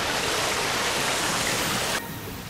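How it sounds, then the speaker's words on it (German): Rising water rushes in the video game L.A. Noire, a loud, steady hiss of flowing water that drops abruptly to a quieter level near the end. "So, das Wasser steigt."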